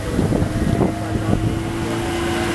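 A boat motor drones steadily close by, mixed with blustery wind buffeting the microphone.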